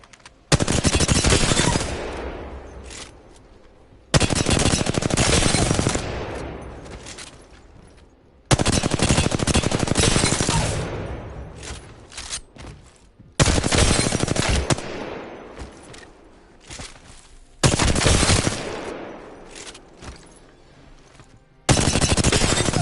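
R-301 rifle in Apex Legends lets off six long sustained bursts of rapid automatic fire, loud and close, separated by short pauses with fading echoes.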